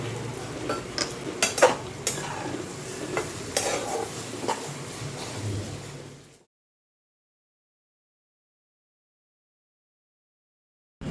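Vegetables fry in a mix of ghee and oil while being stirred, with scraping utensil clicks over a steady sizzle for about six seconds before the sound cuts to silence.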